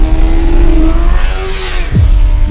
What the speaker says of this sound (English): the angry bark of a fire-breathing race machine that can punch a hole into the fabric of reality